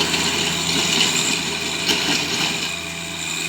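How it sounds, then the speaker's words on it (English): A tractor tills ground for a greenhouse, its engine running as a steady, continuous mid-pitched drone at close range, with no speech over it. "I was looking for someone with a tractor, and I got somebody with a tractor,"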